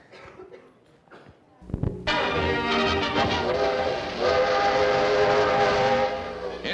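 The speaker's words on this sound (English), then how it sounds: "the friendship train as it rolls across the salt flats of Utah and roars over the endless trestles spanning Great Salt Lake" A train rolls across the Utah salt flats and over trestles spanning Great Salt Lake. Quieter sounds lead into a sudden loud, sustained whistle over heavy rumbling rail noise.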